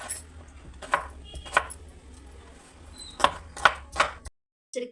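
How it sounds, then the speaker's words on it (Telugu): Peeled radish being cut into cubes with a knife on a board, about six sharp chops in two uneven groups, close and clear against a quiet room, ending in silence. "ముల్లంగిని తొక్క కోసేసి క్యూబ్స్లా కట్ చేసుకుందాం."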